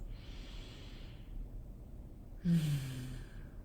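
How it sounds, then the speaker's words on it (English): Slow, deep breathing during a guided meditation: a soft, airy inhale fades out over the first second, then after a pause a louder, closer breath with a low snorting nasal edge arrives near the end. "Allowing yourself to breathe deeply, breathing in through your nose."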